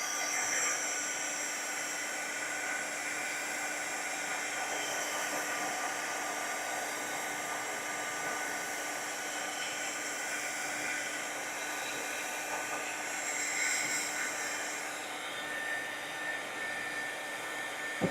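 A hair dryer blows steadily on layered paste, a continuous close airy whoosh with a low hum that holds for the whole stretch, swelling slightly near the end as it is kept moving.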